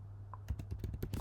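Typing on a computer keyboard, entering an email address at a login: a quick close run of about eight crisp key clicks in an irregular rhythm over a low steady hum, with no talk.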